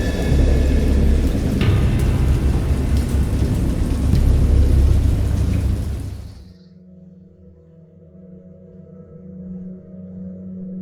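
Heavy rain roars with deep rumbling thunder for several seconds, then cuts off abruptly to a quiet low drone.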